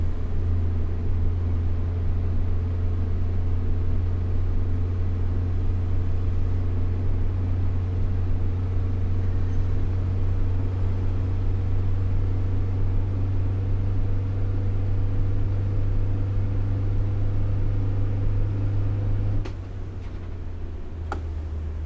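A Mercedes W906 van's engine drones steadily in Fernbus Simulator, a loud, continuous low hum with a constant pitch under a faint ticking. The engine level drops slightly near the end.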